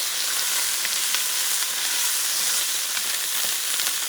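Shrimp sizzling loudly in a hot pan for rice with shrimp, a dense continuous crackle and hiss with faint stirring scrapes throughout.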